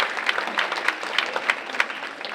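A crowd at a high school senior awards and scholarships event applauds scholarship donors, with steady, close clapping throughout and no talk.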